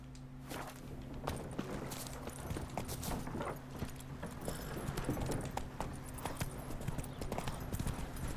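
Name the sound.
horse Roach galloping in video game The Witcher 3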